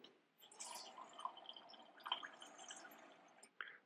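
Water pours steadily over dried apricots in a dish for several seconds, a close, continuous splashing fill with small drips, ending in a brief clink near the end.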